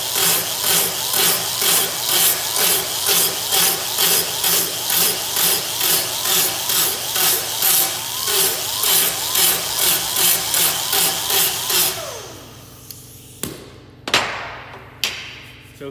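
A welded sheet metal panel coated with Dykem layout fluid is sanded by hand in steady, rhythmic back-and-forth strokes, loud and close, for about twelve seconds. A few sharp metallic knocks and scrapes follow.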